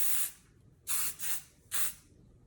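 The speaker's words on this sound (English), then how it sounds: "So I'm just gonna kind of spray it all throughout my hair." Three bursts of Unite Max Control hairspray from a mini can, spritzed through hair: a long opening hiss, then two short sprays close together and a final one, near and alone.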